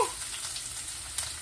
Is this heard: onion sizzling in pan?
yes